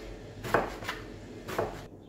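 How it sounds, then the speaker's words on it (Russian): A kitchen knife cuts peeled eggplant into thick, chunky pieces on a board, two crisp chops about a second apart, close and fairly quiet with no talk. "Нарезать теперь буду баклажан."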